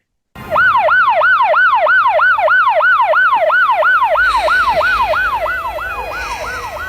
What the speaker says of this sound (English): We open in black with sirens.